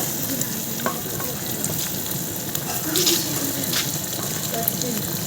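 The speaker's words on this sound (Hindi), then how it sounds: "ऐसे फ्राई करके दे अच्छे तरीके से। इसको भून लेना जरा अच्छे तरीके से।" Curry (salan) fries in a pan with a steady loud sizzle, and occasional stirring scrapes and clinks sit close over the constant crackle.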